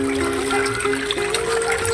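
Water flows continuously into a container holding tubifex worms, a steady close trickle and splash with a faint tonal hum running underneath.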